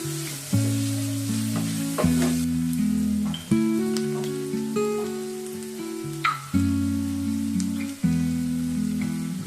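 Onions fry with a pinch of salt in a pan for a Kannada drumstick-flower egg stir-fry. A continuous close sizzle is broken by repeated scraping stirs with a spoon, and there is no talking.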